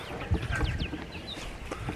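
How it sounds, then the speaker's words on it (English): Chickens on a hobby farm cluck and chatter softly nearby as they follow for scratch grain, short scattered calls over a low background rumble. "I'm gonna give the chickens some scratch, and they're gonna follow me out to where I'm gonna throw it"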